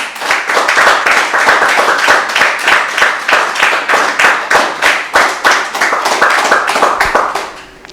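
A seated audience claps steadily and in time, honouring guru Patriji at a Dhyana Yogam meditation gathering, the sharp claps falling in an even, repeating rhythm for the whole stretch before fading at the end.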